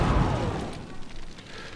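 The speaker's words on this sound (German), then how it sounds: "Gasleitung explodiert." A gas pipeline explodes in the firefighting simulation game Emergency 4, a single deep, rumbling blast at the start that fades into a low roar over about two seconds, with no voices.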